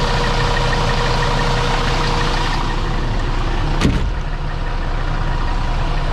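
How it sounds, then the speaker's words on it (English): Volvo B7R urban bus diesel engine idling as it warms up, a loud, steady low rumble with a constant throb, plus a brief knock or clunk near the end. "Engine warming up there."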